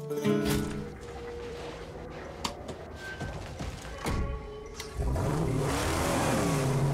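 A car engine in the Mad Max video game revs and whines while driving, with mechanical creaks and knocks throughout, then swells into a louder, rougher acceleration near the end.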